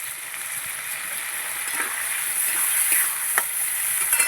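Spice masala for a fish curry sizzles steadily in a hot pan after a splash of water, a bright continuous hiss with faint stirring scrapes and no talking.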